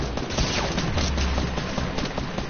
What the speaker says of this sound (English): Cabrera, why are you shooting me?